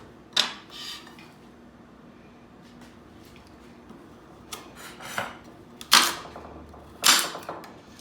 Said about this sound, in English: we're gonna cut these carrots up